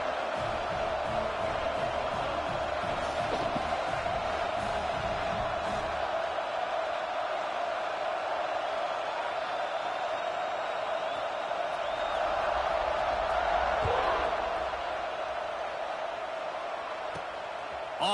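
A large stadium crowd at a football game roars and murmurs continuously during a kickoff, a far, dense wash of cheering that swells near the end.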